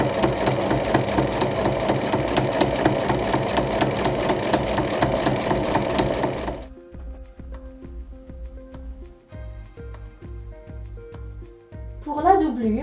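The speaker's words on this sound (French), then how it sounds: "maintenant on va faire une surpiqûre tout autour du rectangle" A sewing machine topstitches around a central fabric rectangle, running in a fast, even mechanical chatter for about six seconds, then stopping and starting in shorter, slower bursts; no voices are heard.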